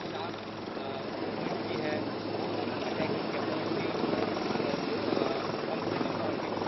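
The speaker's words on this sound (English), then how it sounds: "right behind Abhishek I can see the light combat helicopter now making a landing" A light combat helicopter landing at an air base, its steady broadband rotor and engine roar sustained throughout at moderate distance, with a busy crowd or commentary bed underneath.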